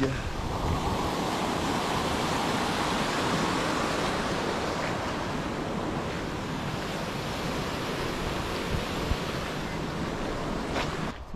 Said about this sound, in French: Le ruisseau de la Merlègue